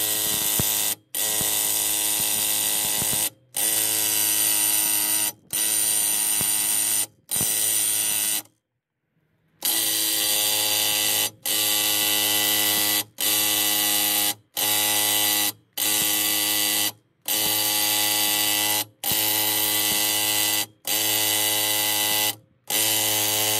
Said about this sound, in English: So we're going to be using a 21mm socket to drive the bolt in.